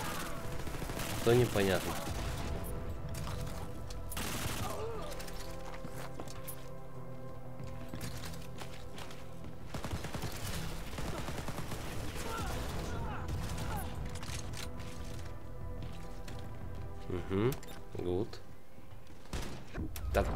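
Gunfire in the co-op shooter Wolfenstein: Youngblood: bursts of shots and mechanical clatter recur across the stretch, some sharp and loud, while a player talks over them.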